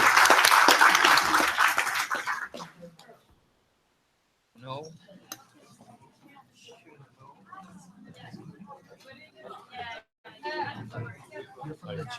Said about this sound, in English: So we can give ourselves a round of applause.